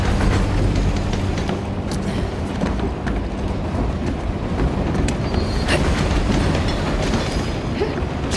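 Video game train from Uncharted: Legacy of Thieves rumbling along at speed, loud and close, with continuous low rolling roar, rhythmic clickety-clack of wheels and occasional metallic squeals and clanks.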